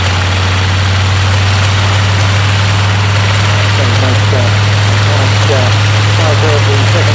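A Rolls-Royce Merlin-engined Spitfire flies the circuit downwind with its gear down at an airshow, its steady low engine drone sitting beneath a strong continuous hum, with talk over the top throughout.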